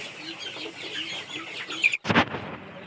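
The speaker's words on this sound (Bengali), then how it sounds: "মুরগিরা ভয় পাচ্ছে, বস্তা দেখলে মুরগিরা ভয় পায় যখন তুষের বস্তা নিয়ে আসি ভিতরে" Frightened chickens in a poultry shed cluck in a run of short, fairly close calls as a sack of rice husk is brought inside, ending in a sharp burst of rustling and clatter.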